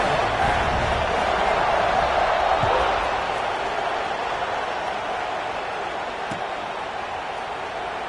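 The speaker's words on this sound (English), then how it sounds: "this crowd is buzzing after that last score" Stadium crowd buzzing in a college football video game, a steady dense roar of many voices holding loud throughout, easing slightly after a few seconds.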